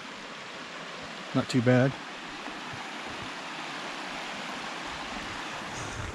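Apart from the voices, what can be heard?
creek flowing at campsite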